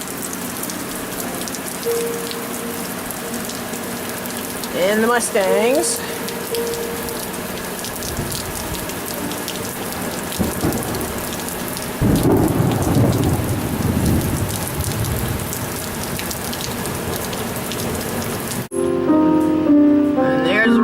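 Steady rain falling outdoors on a farm where horses and burros stand in the open, with thunder rumbling beneath it and a voice speaking briefly over the continuous downpour.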